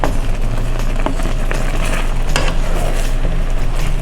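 Cherries cooking with cornstarch in a pot over medium heat give a steady low bubbling and simmering hiss, with a few light utensil clinks against the pot and no one talking.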